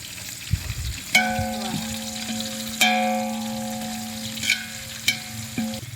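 Onion sizzles in hot tempering oil for pulao, a steady frying hiss broken by a few sharp clinks of a utensil against the pan, close and fairly quiet.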